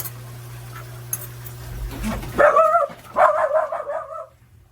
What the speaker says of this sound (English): our dogs are being kind of crazy